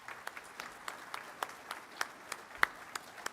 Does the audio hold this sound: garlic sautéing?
no